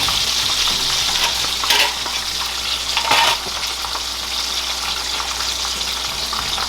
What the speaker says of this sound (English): Listen to that sizzling sound.